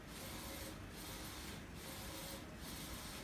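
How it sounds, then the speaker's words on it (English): A DTG T-shirt printer runs a test print, its steady mechanical whir and rubbing carriage noise continuous and close, with faint periodic swells as the print head sweeps back and forth, no voices. "Okay, start to test the printer start."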